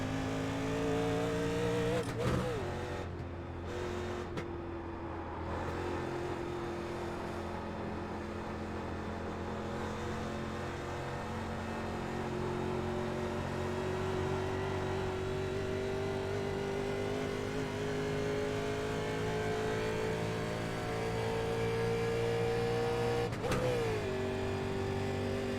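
Race car engines in the iRacing simulator drone steadily for the whole stretch, with the pitch rising and falling as the car accelerates and shifts. The sound is continuous and moderately loud, with no voices.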